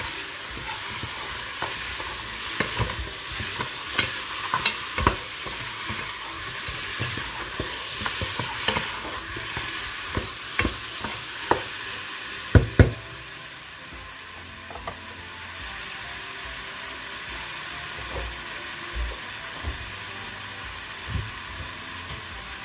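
Onion and salt being stirred into goat meat in a pot for curry goat, a steady run of scraping spoon clicks over a soft sizzle, close and alone with no talk.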